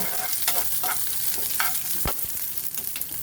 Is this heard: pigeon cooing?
no